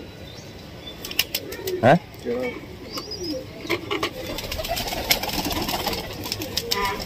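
Pigeons flapping in flight during training, bursts of wingbeats with a few coos among sparse birdsong outdoors, while someone talks now and then.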